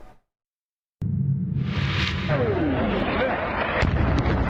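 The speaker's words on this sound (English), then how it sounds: "Dramatic video capturing a powerful airstrike targeting a thermal power plant in Ukraine." Airstrike on a thermal power plant in Ukraine: after a moment of silence a loud, sustained blast erupts, followed by a continuous heavy rumble with a whooshing sweep and scattered sharp cracks.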